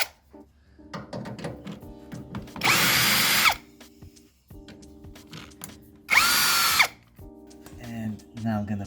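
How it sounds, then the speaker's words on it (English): A power drill whirs in two loud bursts of about a second each while backing out two 10mm screws on an Alfa Romeo Giulietta during an engine mount replacement. Someone talks between the bursts. "Next, I'm going to remove these two 10mm screws."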